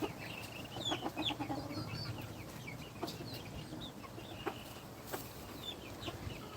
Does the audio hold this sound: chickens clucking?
yes